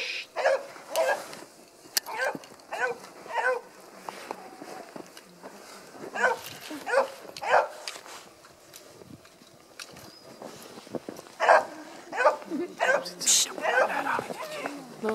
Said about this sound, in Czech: Ten pes ho ruší.